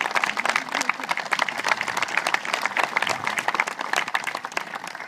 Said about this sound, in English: Yes, clap, thank you.